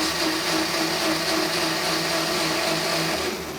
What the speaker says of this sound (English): I'm just going to put that into our food processor, turn it on, give it a little whiz around